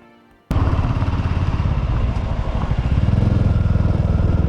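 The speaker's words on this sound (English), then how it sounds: "it's the Royal Enfield Classic 350cc motorcycle, and we're taking it for a spin" A Royal Enfield Classic 350cc single-cylinder motorcycle engine kicks in abruptly after a quiet moment and runs steadily with a loud, close, rhythmic thumping, alone without talk.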